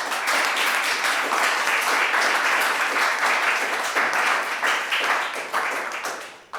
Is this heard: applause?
yes